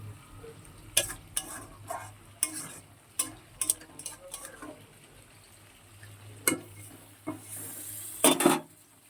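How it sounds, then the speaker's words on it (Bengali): Potatoes fried with tomato in a pan, a quiet sizzle broken by sharp, irregular scrapes and clinks of a spatula stirring against the metal, loudest in a brief burst near the end. "টমেটোর আলুটা তো খুব ভালো করে ভাজা হয়ে গেছে"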